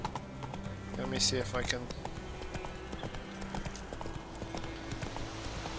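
Roach the horse's hooves clip-clop in a steady galloping rhythm in The Witcher 3, close and clear, with a brief whinny near the start, while a player speaks over the game sound.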